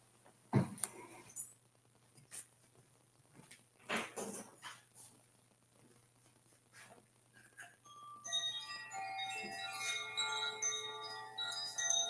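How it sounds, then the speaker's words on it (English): Wind chimes ring for morning prayer, starting with scattered light taps and swelling into a dense, shimmering cascade of bright metallic tones over the last few seconds, close and fairly soft. "Let me get the chimes."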